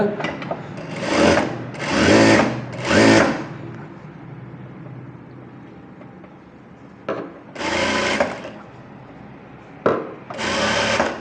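Sewing machine stitching a puff sleeve with a frill, heard as several loud, close bursts of rapid whirring, each a second or so long, separated by quieter pauses of handling.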